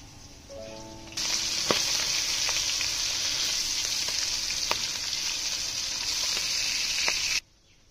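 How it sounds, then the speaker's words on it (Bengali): Singi fish hits hot oil with a sudden loud, spattering sizzle that holds fiercely for about six seconds, flecked with sharp pops, then cuts off abruptly. "তেল মাছ ভাজতে যা খুব তেল ফুটছে"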